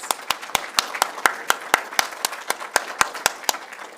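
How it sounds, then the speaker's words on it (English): A small audience claps for a university presentation team at a final presentations event, a sparse scattering of distinct hand claps in a steady, fairly regular rhythm, close and moderately quiet with no talking. "Let's give them another round of applause."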